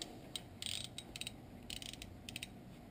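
A 12 mm wrench lightly tightens the lock nut on a dimmer switch behind an instrument panel trim piece, giving a few faint, close ratcheting clicks in short clusters.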